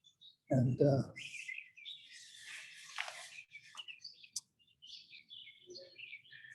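Small birds chirp and tweet in short, scattered bursts at a refuge, moderately close, following a brief spoken voice at the start.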